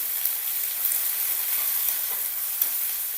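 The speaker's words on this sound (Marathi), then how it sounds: "थोडी हळद टाकायची, कापलेली कोथिंबीर परतून घ्यायचं." Onion, turmeric and chopped coriander sizzle and hiss steadily in a hot pan while being stirred, a continuous close frying sound with no talking.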